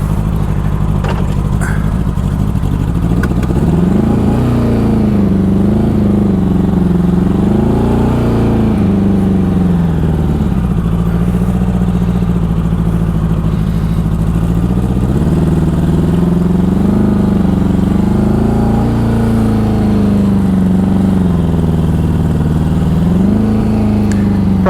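A 1984 Honda Goldwing motorcycle engine runs loud and close as the bike pulls out of a driveway, its steady low drone rising and falling with throttle changes throughout.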